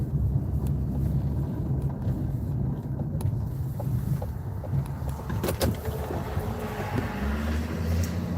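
Snow plow truck passing on a road during a snowstorm, heard from inside another plow truck as a rumbling swell over steady cab and wind noise, with a rising hiss of tires near the end.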